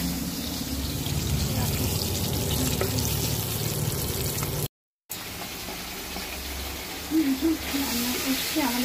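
Food frying in a pan, a continuous low sizzle with a brief dropout midway, while a faint voice murmurs near the end.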